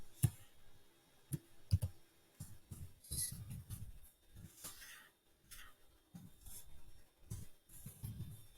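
Brief bursts of computer keyboard typing while making a logo in Silhouette Studio, light clicks in short clusters, fairly quiet, with no talking.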